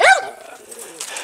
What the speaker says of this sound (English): Betsy's still barking at Yang.